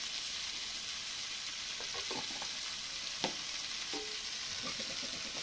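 Chicken pieces frying in a little oil, with a steady close sizzle and several brief scraping knocks of a spoon stirring through the pan, no voices.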